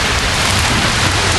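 Golf-ball-sized hail pounds down during a storm, hitting surfaces and breaking apart in a loud, dense, continuous roar of impacts that sounds like heavy rain, close by and without any voices.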